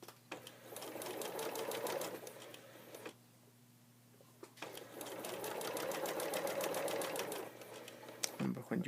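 A sewing machine stitches an invisible zipper into a centre back seam, running in two steady buzzing bursts with a short pause between them, close and clear.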